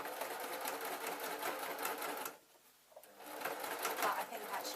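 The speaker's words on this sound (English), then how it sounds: "That's the seam sewn up." A sewing machine runs a short seam for pin tray fabric, whirring steadily up close with a brief slowdown midway before picking back up, with a voice speaking over it.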